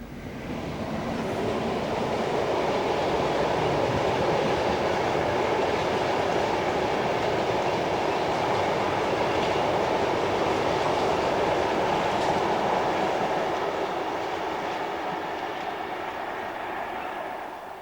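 A train passes beneath the Dundas Aqueduct near Bath, a broad steady rumble of wheels and wagons that holds loud and close for the whole stretch before easing slightly at the end, with no voices.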